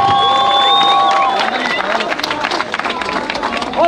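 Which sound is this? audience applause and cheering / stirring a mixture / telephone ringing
audience applause and cheering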